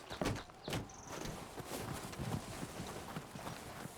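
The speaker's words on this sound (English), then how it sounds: "Let's get up to the horse." Horse hooves clip-clop in an uneven, trotting rhythm on hard ground, fairly close, with a steady rustle of ambient noise underneath, in the video game Red Dead Redemption 2.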